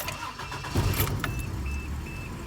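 Toyota 80 series Land Cruiser engine cranking briefly and catching, then settling into a steady idle, close and fairly loud, with a faint high whine running through it.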